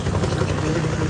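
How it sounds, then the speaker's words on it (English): A helicopter comes in on a normal approach to land in a parking lot at Huntington Beach, its steady rotor and engine drone loud and continuous, with a voice faintly audible underneath. "let's take a look at the first footage of this helicopter coming in on a normal approach"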